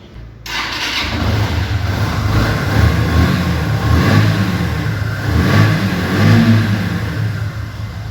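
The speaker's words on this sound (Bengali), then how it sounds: "এখন আপনাদেরকে ইঞ্জিনের সাউন্ড শোনানোর চেষ্টা করব।" A 2010 Yamaha Fazer V1 motorcycle engine starts and settles into a loud, steady close-up run with slight rises in revs, continuous for several seconds with no talking.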